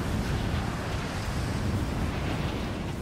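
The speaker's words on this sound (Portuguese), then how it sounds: "Esse vento é absurdo." Strong wind roars across a mountaintop in the video game Rise of the Tomb Raider, a loud, steady, unbroken rush of gusting air with no voices.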